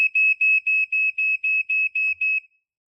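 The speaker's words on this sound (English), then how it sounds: "this detector now has batteries in it, so let's give it a test" Battery-powered household smoke detector under test, sounding a loud shrill high beep pulsed about nine times in quick regular rhythm before stopping.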